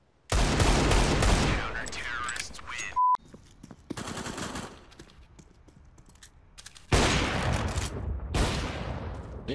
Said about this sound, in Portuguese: o Ana errou um tiro com a mira em cima do cara.